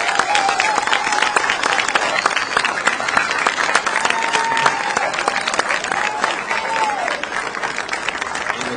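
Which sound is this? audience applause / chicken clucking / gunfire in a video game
audience applause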